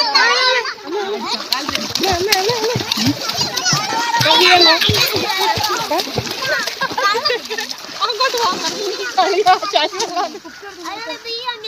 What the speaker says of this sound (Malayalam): വെള്ളം തളിയുന്നു